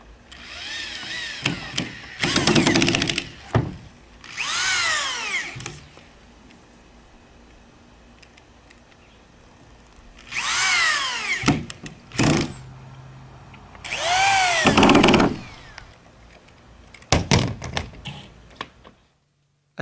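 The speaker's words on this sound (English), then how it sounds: "attach it to the plywood using 1-inch screws" A power drill drives 1-inch screws into plywood for a skateboard halfpipe, several separate whirring bursts of a few seconds each that rise and fall in pitch, with quiet gaps between them.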